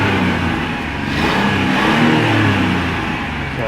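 An old car engine running on ethanol-blended gasoline, heard up close as a loud, steady mechanical rumble with a slight swell in the middle.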